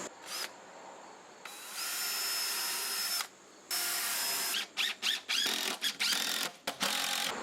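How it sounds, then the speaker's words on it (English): A power drill drives screws into stacked pieces of wood for a backyard bridge. Its loud, close whirring comes in several long bursts followed by a quick run of short stuttering pulses, with no voices. "now it's time to stack these on top of each other and attach them with screws"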